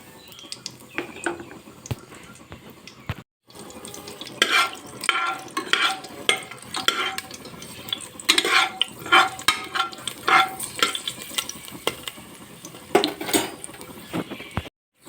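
Dried red chillies and green chilli fry in hot oil in a pan while a spoon stirs, with crackling sizzle and repeated metallic scrapes and taps against the pan.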